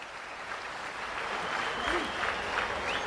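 Steady audience applause at a Prime Minister's foundation stone ceremony for the JNPT SEZ in Maharashtra, a dense wash of clapping from a large crowd that swells slightly toward the end.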